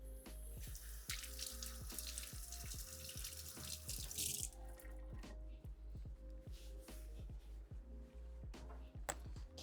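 Running water from a kitchen tap splashes into a sink while something is rinsed, a steady hiss with irregular drips and squishy knocks, louder at first and quieter after a few seconds.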